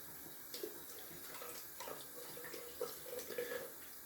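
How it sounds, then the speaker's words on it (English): Hot water runs from a tap into a shaving-soap tub, a steady close splashing stream with brief louder gurgles and clinks, no voices. "Rinse out the tub with some hot water from the tap."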